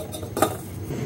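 Metal pot lid set onto a pot of boiled sweet potato, a single short clank in the kitchen amid low background noise, no speech.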